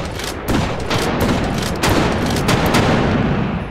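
Rapid gunfire of flash cartridges aimed at bots in the VR game H3VR, loud close bursts of repeated shots with sharp cracks, continuing throughout.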